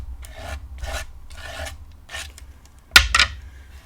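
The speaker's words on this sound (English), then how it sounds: "scrape the extra right back into the jar" A dry scraping rasp as excess craft powder is pushed across paper and back into a jar, several short rubbing strokes in a quiet room followed by a sharper tap and rattle near the end.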